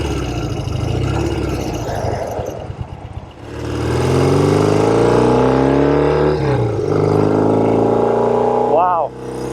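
A restored 1972 Norton 750 Commando Combat motorcycle rumbles while being ridden, engine loud and close, low and lumpy at first, then revving up with rising harmonics, easing off and briefly blipping near the end.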